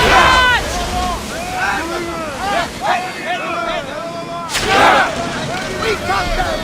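A naval barrage in the video game Assassin's Creed Odyssey: repeated booming volleys and splashes over wind and surf, with loud shouted voices calling over the battle throughout.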